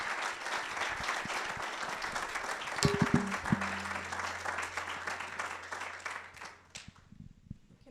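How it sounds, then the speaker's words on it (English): An audience at a student innovation pitch final applauds the six competing teams with a steady wash of clapping, fairly quiet and distant, which thins out and fades near the end, with a brief tone in the middle. "a big applause again to all 6 of our teams"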